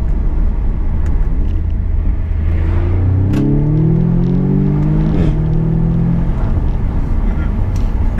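A car engine revs in second gear, a loud close drone that climbs steeply in pitch through several rising sweeps before settling, with talk over it.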